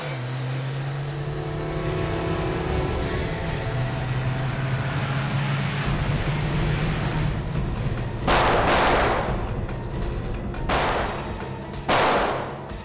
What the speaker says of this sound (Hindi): ये लोग कौन फायर कर रहे हैं सर?